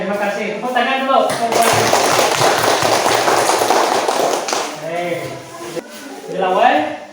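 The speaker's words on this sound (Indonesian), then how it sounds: "Tepuk tangan dulu." A group of children and adults in a classroom-style gathering clap hands together in a dense, steady burst that lasts several seconds, with voices talking before and after it.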